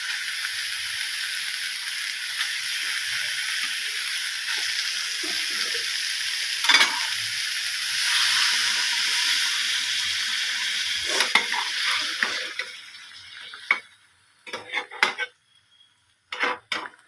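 Rohu fish sizzling loudly in a hot frying pan, a dense close hiss that settles, then gives way to scattered clinks of pan and utensil near the end.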